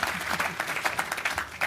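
A small audience gives a brief round of clapping, scattered but steady, at moderate loudness with a faint voice underneath.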